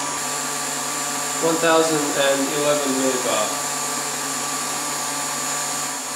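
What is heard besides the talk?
vacuum pump running for carbon fiber resin infusion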